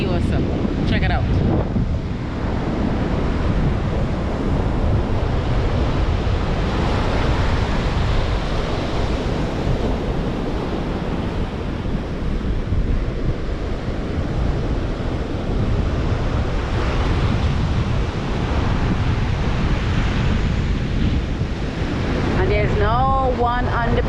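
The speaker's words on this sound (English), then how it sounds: "we are here at Point Radix and it's a very awesome beach" Ocean waves breaking on the beach at Point Radix, a steady loud roar of surf heavily mixed with wind buffeting the microphone throughout.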